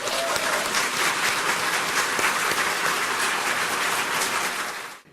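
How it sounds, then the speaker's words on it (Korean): A large audience at a church gathering in Japan breaks into sustained applause, thick and even for several seconds before tapering off abruptly at the end. "박수를 올려드립시다"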